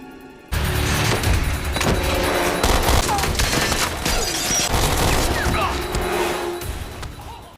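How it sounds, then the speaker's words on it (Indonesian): Dense gunfire from a shootout in the action film Jack Reacher 2, with loud overlapping bursts and blasts running continuously under film music and effects. "terjadilah aksi baku tembak yang sangat edun di antara mereka"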